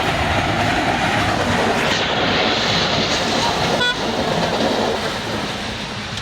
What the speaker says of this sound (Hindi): कोई सामान वाली ट्रेन है, नहीं सामान वाली नहीं थी, पैसेंजर वाली एकदम से।